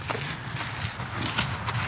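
Wild horses moving about nearby, a faint scatter of irregular hoof thuds and shuffling steps over a steady low background, fairly quiet and without clear talk.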